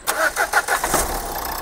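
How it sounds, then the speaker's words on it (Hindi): A used 2015 car with a 110 PS engine starts in a Delhi second-hand lot: a few rhythmic cranking pulses, then the motor catches and settles into a steady, close idle. "वो तो सर इंजन ही बोल रहा है इसका"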